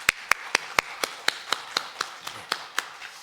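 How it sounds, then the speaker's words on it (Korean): Applause welcoming guests during a Sunday church service in a Korean church, heard as a sparse series of about a dozen separate claps, evenly spaced and moderately near. "박수로 환영합니다."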